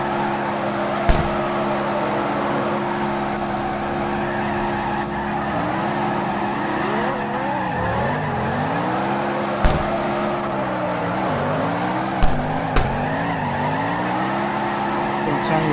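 A car drifting in CarX Drift Racing Online, its engine droning steadily with pitch dips and rises as tires squeal through long slides, occasional sharp clicks, close and loud with a voice talking over it.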